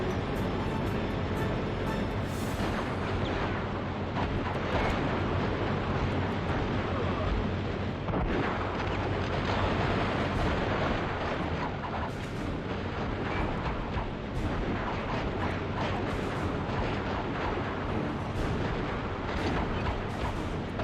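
Gunfire rattles almost nonstop in the PS2 game Dead to Rights, a dense, loud barrage of shots and booming impacts with a voice talking over it now and then.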